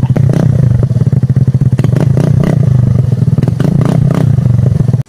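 A Suzuki Burgman scooter fitted with a full aftermarket exhaust idles and blips nearby, its loud throbbing putter pulsing in quick rhythmic bursts before cutting off abruptly at the end.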